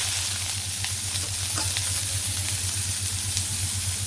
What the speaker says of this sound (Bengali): তো এই তেলের মধ্যেই দিয়ে দিই শাপলা দিয়ে দিই